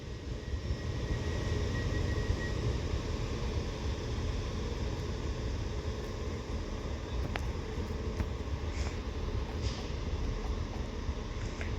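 A Transport for Wales service bound for Holyhead from Manchester Airport arriving at Chester station, its low rumble and rolling wheel noise filling the platform steadily, with faint squeals and clanks as it slows.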